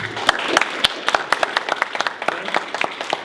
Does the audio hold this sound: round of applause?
yes